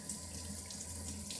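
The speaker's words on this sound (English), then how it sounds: "I'm gonna do the trick where you run the top of the lid under hot water." Hot water runs from a kitchen tap over the metal lid of a glass jar. The stream is steady and close, with a soft, continuous splashing hiss and no voices.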